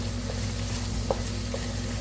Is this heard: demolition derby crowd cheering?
no